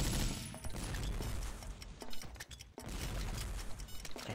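Sustained gunfire from the online shooter Warrock, with M14 rifles, crackles as a dense, continuous barrage of rapid shots with brief dips, loud and close throughout.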